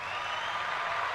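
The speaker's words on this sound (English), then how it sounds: "Round of applause for me." Short burst of applause, a steady wash of clapping heard alone for just over a second.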